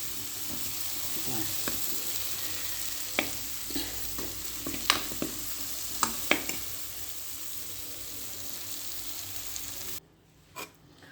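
Steady frying sizzle as raw mango with turmeric and chili is sautéed, a spatula stirring and clicking against a pan, several sharp scrapes over a continuous hiss; no talking.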